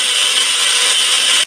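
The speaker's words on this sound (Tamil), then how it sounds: "என்ன இது மிக்ஸி சவுண்ட் கேக்குதா?" A kitchen mixer grinder whirring loudly at high speed, a steady harsh hum that cuts off abruptly, in a cartoon.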